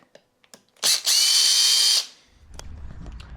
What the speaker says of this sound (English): It's, I don't remember, 80 screws per tire, so that's 320 screws.